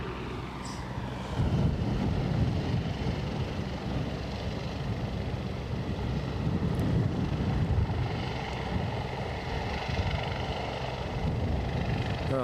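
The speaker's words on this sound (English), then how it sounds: "Oh, I can hear the helicopter," A helicopter at Aberdeen airport, a busy heliport, produces a steady distant rotor and engine drone that holds at an even level throughout, with no speech.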